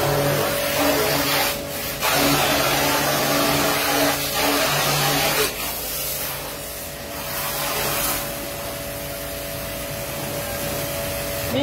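Kingsano 400-bar high-pressure water washer, a dual-mode unit with long and short spray guns, runs with a steady motor hum under a loud continuous hiss of spraying water, with brief surges and dips in the rush.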